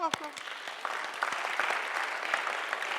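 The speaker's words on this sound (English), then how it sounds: "Now, I want you to clap." Audience clapping during a talk, a broad continuous patter of many hands throughout, with a voice briefly audible at the start.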